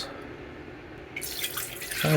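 Water runs from a tap into a measuring vessel, a quiet trickle that swells into a louder, splashier pour partway through, measuring out water for mixing PC-TEA film developer.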